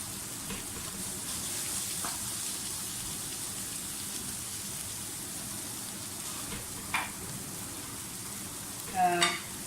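Something sizzles quietly in a pan while macaroni is being boiled, a faint, even crackle under a low background with a couple of brief clinks and scrapes near the end.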